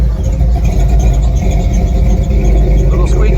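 A big block engine in a lifted 1-ton squarebody crew cab truck starts and runs with a steady low rumble, and a worn drive belt squeals over it throughout.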